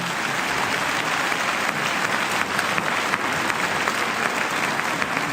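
An audience at a charity concert in a shopping mall applauds steadily and densely, a loud, even wash of clapping that lasts throughout with no talk over it.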